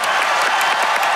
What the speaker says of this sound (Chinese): 各位观众掌声给黄明志